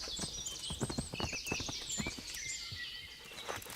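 Horse hooves clop in a steady walking rhythm in the medieval game Kingdom Come: Deliverance, close and moderately loud, with bright bird chirps layered above and no talking.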